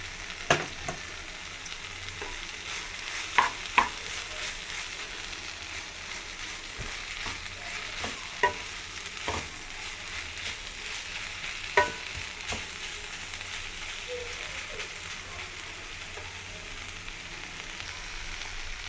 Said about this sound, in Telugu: మసాలా అంతా బాగా వేయించుకోవాలి ఫ్రెండ్స్.